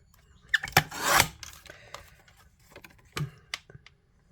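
A paper trimmer slices through card stock for a card-making project, giving a few close, brief rasping strokes with soft taps and pauses between them.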